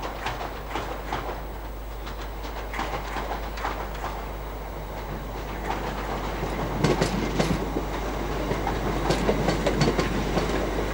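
A Class 317 electric train runs through Cambridge station, its wheels clattering steadily over rail joints with a rising rumble and rhythmic clicks in the second half, fairly distant and without voices.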